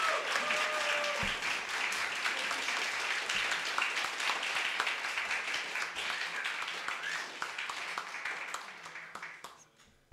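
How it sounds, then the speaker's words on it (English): Audience applause at the close of a health and safety hackathon, a long, dense burst of clapping from a crowd that slowly thins and fades out near the end. "So please give them a big applause."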